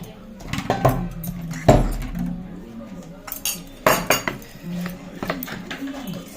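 A spoon stirring tamarind water and salt into idli chutney in a metal bowl, with clinking and scraping knocks in an irregular rhythm, close and fairly loud.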